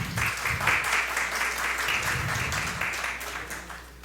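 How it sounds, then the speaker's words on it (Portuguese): An audience at a lecture claps for a speaker being introduced, steady moderate applause that gradually thins and fades toward the end, over a low background hum. "a doutora Rose Ramires, uma salva de palmas para ela."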